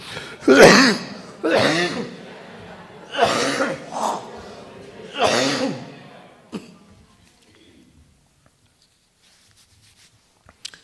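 A man coughs several times in quick harsh bursts, close by, followed by a short trailing cough and then near silence.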